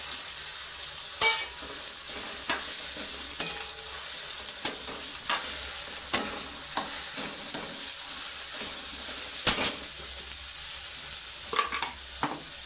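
Kantola (spiny gourd) fries with garlic and onion in a pan, a loud, steady sizzle broken by regular clinks and scrapes from stirring, with no talking.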